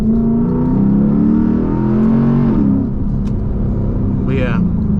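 A Lexus IS F with a V8 engine running on E30 fuel accelerates hard. A loud, continuous engine drone is heard from inside the car, its pitch climbing and then settling.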